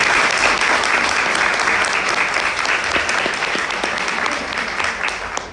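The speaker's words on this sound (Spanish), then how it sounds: "Les pido un aplauso para él" An audience at an open academic talk series applauds steadily and close by, a dense, sustained clapping that slowly tapers over several seconds.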